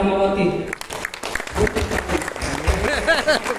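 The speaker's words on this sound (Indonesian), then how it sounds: "Tepuk tangan" Applause from the audience at a graduation ceremony for STMIK PPKIA Tarakanita Rahmawati. A brief burst of clapping is mixed with loud voices and cheering, and an amplified voice talks over it.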